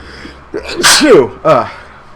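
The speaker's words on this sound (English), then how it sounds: "Also, I need to sneeze." A single loud, close sneeze bursts out, a sharp in-breath leading into the explosive release with a short trailing vocal tail.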